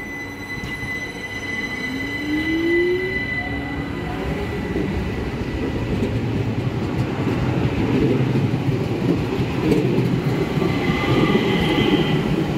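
An ÖBB passenger train pulls into a station in Austria with a steady, loud rolling rumble. Rising wheel squeals and brake tones build as it slows, and no one speaks.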